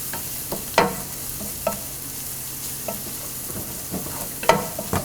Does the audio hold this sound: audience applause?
no